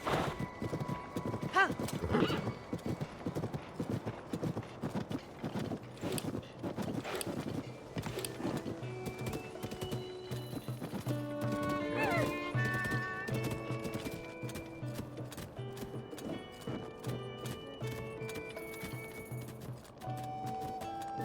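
Horse hooves clip-clop in a steady walking rhythm in Zelda: Tears of the Kingdom, joined by a whinnying neigh and game music tones, with talking over parts of it.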